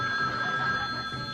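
A telephone bell rings with a steady, bright electronic tone that holds evenly through a short burst, fairly close and alone with no talking.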